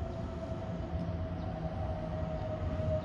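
A regional village train in Japan rumbles steadily at a distance, a low continuous rolling noise with a faint sustained tone above it.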